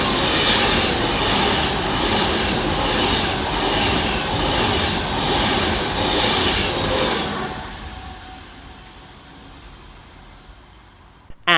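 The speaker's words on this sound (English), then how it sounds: "we see passing through 390-039, working 1H18 on Divert for Avanti West Coast" Avanti West Coast class 390 electric train 390-039 passing through Mauldeth Road station on a diverted run in the rain, a loud close rush with rhythmic wheel beats fading sharply after about seven seconds into quieter rain ambience.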